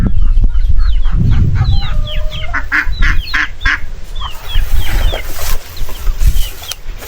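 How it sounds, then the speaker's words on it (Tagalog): A large chicken clucks and squawks in quick, agitated bursts while a dog chases it along a riverbank, the calls close and loud over busy outdoor background noise. "Naghahabulan yung aso at saka malaking manok."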